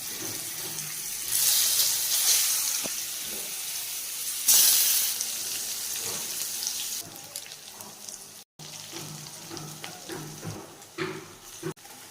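Paneer frying in a little oil sizzles steadily throughout, with hissing bursts and occasional clinks of a utensil against the pan.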